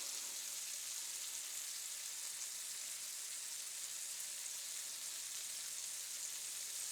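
Two burgers of 90-10 ground beef with a rub frying in a pan give off a soft, even, continuous sizzle, faint and steady throughout with no voices.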